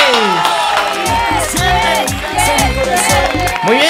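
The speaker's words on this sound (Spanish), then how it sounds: "Fuerte el aplauso, muchachos, fuerte el aplauso" An audience at a Latin music event claps and cheers loudly, with rhythmic beat-like thumps and whoops mixed in, a lively crowd noise close and energetic throughout.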